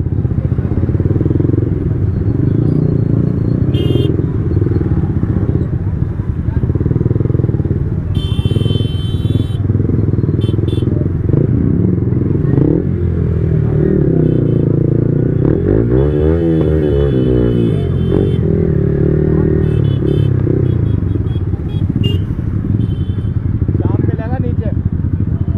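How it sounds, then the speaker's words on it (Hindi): Yamaha MT motorcycle engine rumbling steadily through a crowded Diwali night rally ride in Jaipur, loud and close throughout, with revving swells, other passing vehicles, scattered horns and people talking over it. "मैं चला रहा हूँ MT और जो चिराग भाई है वो चला रहे मेरी R5।"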